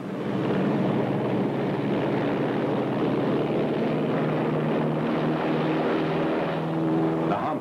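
Converted C-47 transport aircraft carrying pack animals in flight over the Himalayas, a loud, continuous droning engine roar that holds steady throughout with no talk.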